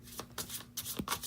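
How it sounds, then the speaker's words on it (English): Tarot cards shuffled by hand in a few quick riffling bursts, crisp papery flutters close up with short pauses between them, no voices. "I want to shuffle the cards without asking any specific questions, allowing the energy to flow naturally."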